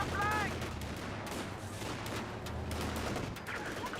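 Rifleman gunfire striking a Kubelwagen in the video game Company of Heroes 2, heard as quiet, rapid bursts of shots and impacts throughout a busy battle, with a caster talking over it.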